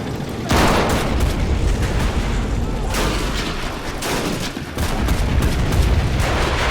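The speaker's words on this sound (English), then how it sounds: "our artillery is quite effective here" Artillery and rifle fire in a 1935 Italy–Ethiopia battle in the strategy game MOWAS 2, with repeated booming blasts and crackling gunfire in irregular bursts over a constant rumble and no speech.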